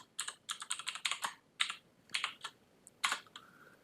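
Quick bursts of keystrokes on a computer keyboard as Python commands are typed, close and clear, clustered in short runs with brief pauses between them.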